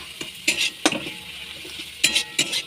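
A spatula scrapes and clinks against a pan while spiced masala for a potato and cauliflower fish curry fries, with a few sharp metallic taps over a soft, steady sizzle.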